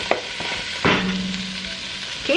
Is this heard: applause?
no